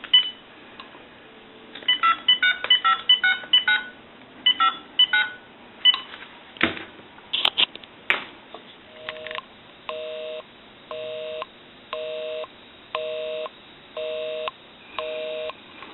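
A converted Stromberg Carlson wood wall telephone dialing a number with a rapid series of beeping tones, followed by a busy signal pulsing in an even on-off rhythm, loud and close with no talking.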